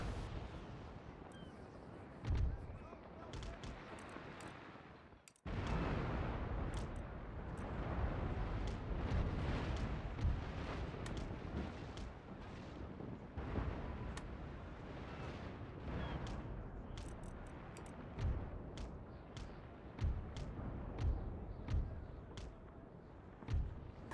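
Ship cannon fire in the video game Empire Total War during a naval battle between heavy frigates, with repeated booming blasts and rumbling impacts over a sustained roar, several volleys overlapping loudly and no talking.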